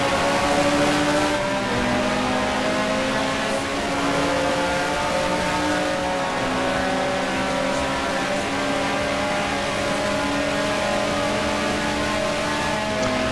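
Ferrari race cars lapping Monza in the racing game GTR2, their engines droning loud and steady at high revs for the whole stretch, with pitch shifting slightly as gears and speed change.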